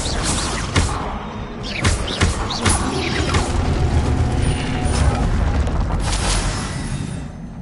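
The Incendio fire spell cast in the game Hogwarts Legacy: loud, roaring rumble with crackling booms and whooshing bursts, a series of impacts over a continuous fiery roar.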